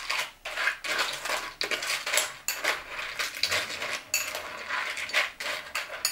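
A spoon stirs amaranth cereal in a bowl, making a quick run of close clinking and scraping knocks against the dish with short pauses between strokes, and no voices.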